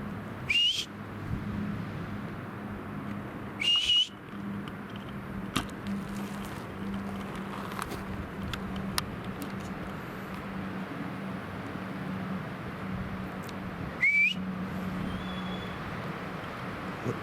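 Several brief, high whistles spaced apart in a forest over a quiet, steady background hum, with faint distant traffic-like rumble.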